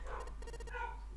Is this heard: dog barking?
yes